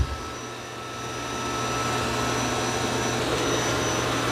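Dreame D10 Plus robot vacuum and mop running indoors, giving a loud, steady whir that swells slightly after starting and then holds constant, with no talking.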